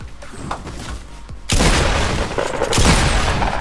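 Pump shotgun blasts in the video game Fortnite, a loud booming burst of gunfire that erupts suddenly and continues with a second heavy blast, dense and close.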